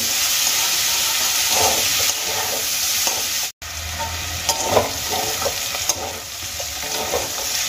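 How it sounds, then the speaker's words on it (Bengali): Potatoes and green peas fry in a pan with a loud, continuous close sizzle and hiss, stirred now and then with soft scrapes, and a brief cut partway through. "বেশ কিছুক্ষণ আমি আলুগুলোকে ভেজে নিয়েছি"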